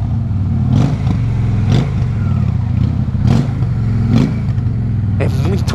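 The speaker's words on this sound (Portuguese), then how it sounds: "Ó, é gostoso o ronco, cara. Nossa senhora, ronquinha de moto carburada é sensacional," Carbureted Honda Shadow motorcycle engine revving in repeated throttle blips, four or five loud rises over a steady idle rumble, with someone talking over it.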